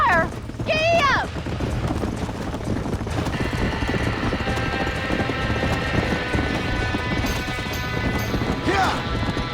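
In the Red Dead Redemption video game, horse hooves clip-clop at a gallop for a steady stretch of several seconds beside a burning barn. A horse whinnies at the start, and voices shout over the hoofbeats.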